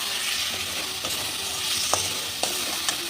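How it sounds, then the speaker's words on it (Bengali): Spice paste sizzles loudly in a pan as it is fried and stirred, a constant close hiss broken by occasional scrapes and taps of the spoon, with no talk. "দিয়ে মশলাটাকে ভালো করে কষে নেব"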